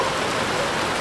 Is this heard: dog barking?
no